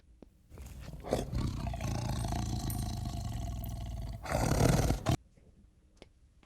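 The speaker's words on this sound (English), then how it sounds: "Tiger." A tiger roars in a sustained, loud call lasting several seconds, swelling to a stronger burst near the end before cutting off into near silence.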